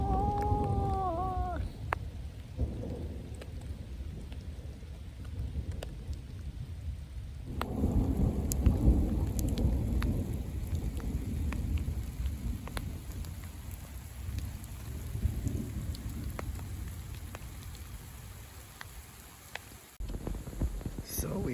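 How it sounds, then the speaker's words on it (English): Thunder rumbles through a steady rainstorm on the John Muir Trail, a deep rolling roar that swells louder around the middle and lingers under constant rain; faint bird-like chirps open the scene. "Maybe I'll get a video of the thunder."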